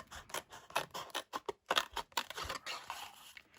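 Scissors snip through card for an octagonal greeting card, a close series of crisp, separate cuts in an uneven rhythm with short quiet gaps between them.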